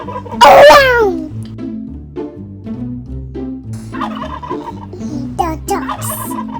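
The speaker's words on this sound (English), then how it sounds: "says gobble gobble and lives on the farm. Turkeys are walking around." A turkey on a farm lets out one loud, close gobble near the start, a rapid warbling burst, followed by softer, steady tonal sounds for the rest of the clip.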